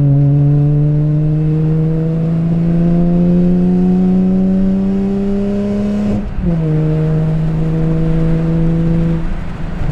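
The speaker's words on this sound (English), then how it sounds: "It sounds like a single turbo inline six of some kind." A BMW E46 M3 inline-six engine fitted with headers, heard up close, drones as it climbs in pitch, drops sharply once, then settles into a steady tone.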